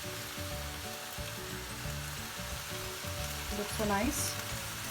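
Boiled spaghetti sizzles in a tofu stir fry with crushed black pepper, a loud, steady frying hiss with stirring and scraping, and a short spoken comment near the end.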